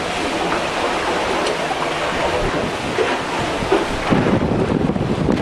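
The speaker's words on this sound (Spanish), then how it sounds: "Energía eólica, el viento." Wind buffets the microphone aboard the We Are Water racing sailboat at sea during the Barcelona World Race, a constant loud rushing roar with gusty surges and hints of water beneath.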